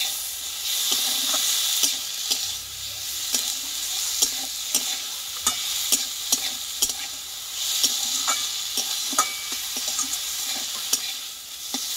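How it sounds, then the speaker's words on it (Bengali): Boiled drumstick leaves fry with eggplant in a pan, giving a steady hissing sizzle broken by frequent scraping clicks and knocks from stirring, all close by. "দিয়ে এবার একসঙ্গে আমি রান্নাটা করে নেবো বেগুনের সঙ্গে"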